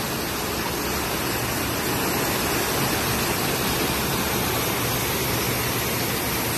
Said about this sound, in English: And there's one of the streams in the cave.